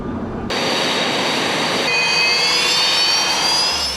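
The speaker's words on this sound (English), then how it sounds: "tactical fighters, anti-submarine aircraft, and helicopters launched simultaneously to disperse to alternate bases" Military jet engines roar steadily during an airfield evacuation exercise as tactical fighters launch together, a loud broadband rush that swells after a half-second lead-in, with rising whine tones layered on top and no voices.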